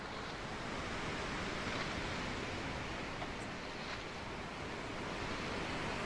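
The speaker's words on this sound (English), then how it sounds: "Look at these waves." Ocean waves wash steadily while sailing in the Sailwind video game, a broad continuous surf and wind rush with no clear breaks, fairly quiet and even.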